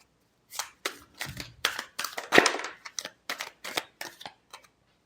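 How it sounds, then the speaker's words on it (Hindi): A deck of tarot cards is shuffled close up in a series of about a dozen short, crisp riffling bursts with brief pauses between them, and no talking. "Last shuffle."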